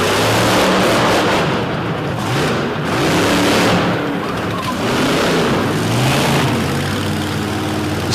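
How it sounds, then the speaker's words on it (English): Remote-control cars crash and grind into one another at an RC crushing show on an orange track lane, a continuous loud whine and rumble of small motors revving and surging with no voices. "Some good old-fashioned car-crushing action."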